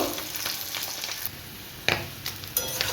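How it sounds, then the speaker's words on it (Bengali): Steady oil sizzle from potatoes frying until reddish for vegetarian aloo dum, with occasional scrapes and clinks of a spatula stirring in the pan. "আরও একটু ভাজবো লাল লাল করে আলুটা আর একটু ভেজে নেব"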